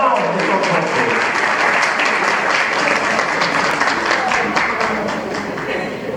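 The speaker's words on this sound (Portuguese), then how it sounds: "Vamos aplausos de todos vocês" An evening audience applauds to welcome a speaker, loud, dense and continuous clapping that stays strong throughout with a faint crowd murmur.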